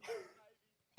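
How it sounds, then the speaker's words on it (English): A person in a football stadium crowd gives a single harsh cough at the very end, after a stretch of a voice talking. "Oh, he's coughing already."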